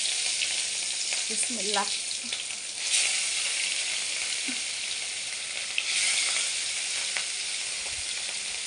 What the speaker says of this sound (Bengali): এখন এই পাতিলে মাছটা ভেজে নেব